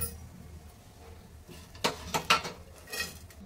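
Cooked spicy amla chutney being scooped out of the pan into a pot with the flame off, giving a few close metallic clinks and scrapes of a spoon against cookware toward the end after a quiet start.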